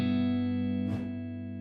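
A held synth tone with a brief burst of reverberant noise from the BX Rooms plugin, set to a dull, dark shape, in the middle, the tail sounding muffled and dark as it lingers.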